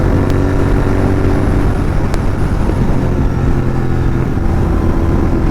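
Loud, constant engine and exhaust drone from a Royal Enfield GT 650 motorcycle riding on a straight highway, mixed with heavy wind rush and no talking.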